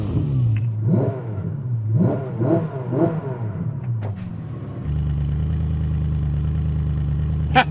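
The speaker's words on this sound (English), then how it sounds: "See which car sounds the best." Ferrari SF90 XX or Koenigsegg Regera engine revving hard in a series of sharp rising blips, then holding a steady loud drone close by, with no talking.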